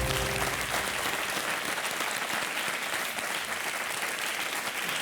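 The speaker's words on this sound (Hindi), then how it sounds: "सी आंख मिलना पे ताली लगाइए।" A television quiz show studio audience bursts into applause after a correct answer, a loud, continuous wash of many hands clapping that holds evenly throughout, with no talking on top.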